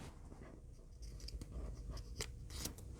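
Scissors trim paper for a handmade telescope card, faint snips and a short closing crunch repeating a few times, close but very quiet against a soft background hiss.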